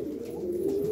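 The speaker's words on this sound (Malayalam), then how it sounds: "നല്ല പറവ കൂടിയ നൈറ്റിക്ക് പറക്കുന്ന പ്രാവാണിത്" Domestic pigeons in a loft give one brief, low, steady coo, close and fairly soft, with no talking over it.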